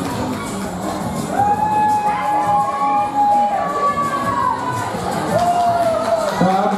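Fans of dancers cheering at a ballroom dance competition: a crowd's loud shouts, whoops and high cries rise and fall continuously over a couple of sustained calls, with some voices mixed in.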